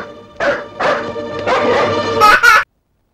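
Several dogs bark in quick bursts, close by and loud, with a higher yelp near the end before the sound cuts off; four or five dogs tied up guarding a mill.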